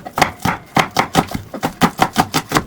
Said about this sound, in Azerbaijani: Soğanı da doğradım.